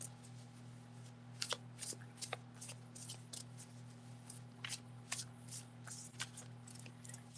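A deck of oversized cards is shuffled in quick riffling bursts, repeated several times at a quiet, close level over a steady electrical hum.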